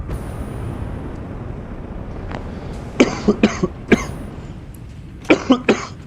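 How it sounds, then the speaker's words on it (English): Several short harsh coughs in two clusters, close and loud, over a steady low engine-like rumble in the background. "This cough is frustrating."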